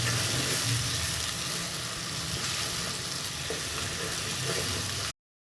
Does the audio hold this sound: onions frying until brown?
yes